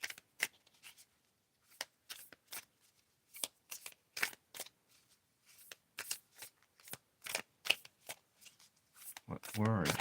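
Oracle cards being shuffled in repeated quick riffling bursts, close up, with short pauses between runs and a louder rustle at the end.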